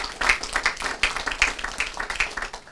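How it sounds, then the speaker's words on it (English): Scattered hand clapping at a 9/11 twentieth-anniversary remembrance night, applauding the Department of Parks and Recreation; a modest, uneven round of claps from a small group, fairly close, with faint background voices. "I think they need a big round of applause"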